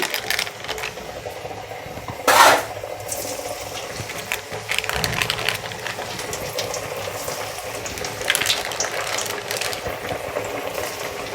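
Pieces of butter peanut chikki sizzle and crackle in hot oil, a steady hiss with a loud burst near the start and livelier spitting later on.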